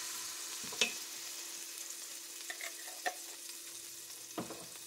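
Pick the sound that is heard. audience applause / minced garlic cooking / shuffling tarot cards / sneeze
minced garlic cooking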